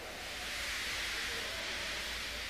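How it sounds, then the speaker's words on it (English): A cartoon steam locomotive weakly lets off steam, a steady soft hiss of broadband noise held for a couple of seconds with no talk over it. "He just let off steam feebly."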